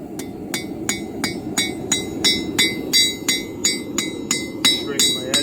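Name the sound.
hammering a nail to forge a four-sided bevel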